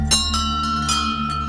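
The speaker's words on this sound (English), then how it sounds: "I didn't realize the significance of bells, especially around temples and places of worship" Temple bells ring with sustained, shimmering metallic tones. Several fresh strikes land over the lingering hum, loud and fairly close, with no voices.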